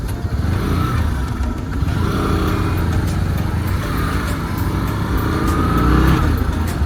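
Motorcycles riding along the road at the entrance to Bandipur Tiger Reserve in dry summer, engines droning steadily and loudly throughout with a low rumble that swells slightly near the end.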